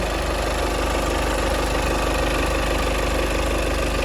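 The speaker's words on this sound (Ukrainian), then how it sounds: "робота двигуна" A 2018 VW Passat Alltrack engine idles steadily and close by, a continuous even rumble with no talking.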